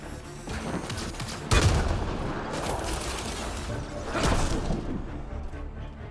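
A grenade blast and bursts of gunfire in a Mass Effect: Andromeda firefight, with a sharp loud explosion followed by steady rattling shots and a second heavy crash, dense and close throughout.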